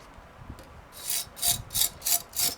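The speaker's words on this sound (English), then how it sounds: "We're using a brass bristle brush so that it does not damage or burnish the teeth dull." A brass bristle brush scrubs the teeth of a pole saw blade in five quick, rhythmic rasping strokes, close and crisp, after a quiet start.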